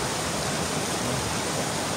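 Strong rushing water like an underground river, heard as a loud, dense, unbroken roar close by with no voices over it.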